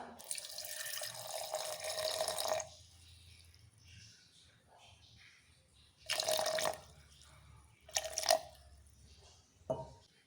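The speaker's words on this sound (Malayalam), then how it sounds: "ഇനി ഇതിനകത്തേക്ക് നമുക്ക് കുറച്ച് വെള്ളം ഒഴിച്ചു കൊടുക്കാം" Water pours into passion fruit juice in a long stream, then in three shorter splashing bursts, each separated by near silence.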